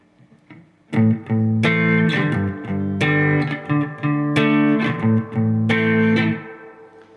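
Electric guitar with a clean tone plays a song introduction once through, strummed chords and picked notes ringing out clearly and alone after a brief quiet start, fading at the end.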